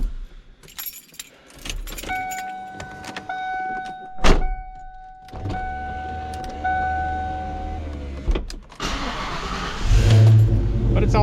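Keys jangle and a starter turns before a 94–95 5-liter V8 with shorty headers, a Bassani crossover pipe and 410 gears fires up and settles into a loud, rumbling run close by.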